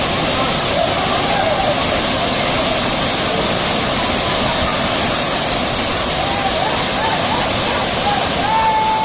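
Waterfall in the Thirumoorthy hills pouring down in a loud, continuous broad rush of water, close and unbroken, with faint voices barely showing through the roar.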